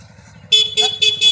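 A motorbike horn honks in quick repeated toots, four short beeps in a row, loud and close over a faint low rumble.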